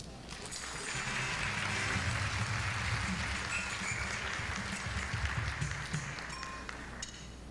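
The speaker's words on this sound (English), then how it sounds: "Let's have a big round of applause for Gwen." Sustained applause from a seated audience at the Ms Senior DC Pageant honors the winner, a broad, even wash of many hands clapping that swells early and holds steady before easing slightly at the end.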